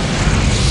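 A loud supernova explosion sound effect, a dense wall of roaring rumble that fills the whole short moment without a break and with no talking.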